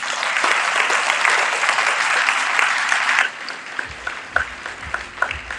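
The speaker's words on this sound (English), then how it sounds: "Another round of applause, please, for Harnaaz" Audience applause fills a pageant hall, loud and dense for about three seconds, then thins to scattered individual claps as it fades.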